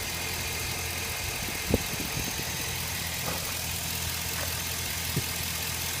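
A 2007 Chevy Silverado engine idles quietly and steadily, a low, even mechanical hum with a few faint clicks and knocks.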